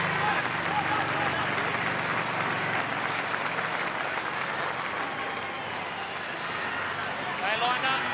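Sustained applause from a stadium crowd at Parramatta Stadium during a rugby league match between the Eels and the Storm, a broad continuous roar of clapping under a commentator's voice.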